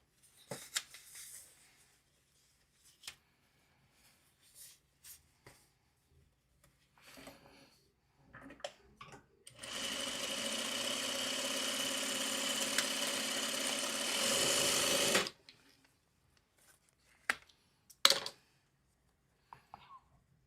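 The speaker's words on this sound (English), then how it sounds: "Then I can press this one back and we'll sew this strip onto this." A sewing machine stitches a fabric strip in one steady, close motor whir lasting about five seconds, framed by quiet handling clicks and fabric rustles before and after.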